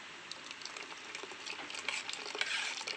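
A spoon stirs mango puree into a blended egg and milk mixture in a bowl, giving a soft, steady wet scraping and swishing that builds slightly toward the end, close and without voices.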